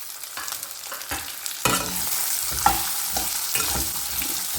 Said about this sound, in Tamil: இப்போ பச்சை மிளகாயும் அது கூடவே நம்ம எடுத்து வச்சுருக்கிற இந்த கருவேப்பிலையும் சேர்த்து நல்லா வதக்கி விட்டுக்கலாம்